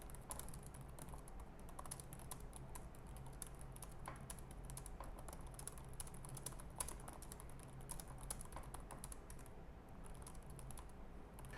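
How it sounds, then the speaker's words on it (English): Rapid, continuous typing on a shallow ASUS Zenbook 14 (2021) laptop keyboard, soft clicky keystrokes close by with no voices. "next up is a typing test"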